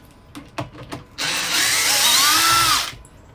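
A power drill backs screws out of a wooden box with a tuned port. After a few light knocks it whirs loudly and close for about two seconds, rising in pitch, then stops.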